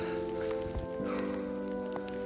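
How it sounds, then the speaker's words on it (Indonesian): Rain falls steadily on a mountain trail on Mount Merbabu, a continuous close patter mixed with a steady tonal hum. "kondisi hujan masih belum reda"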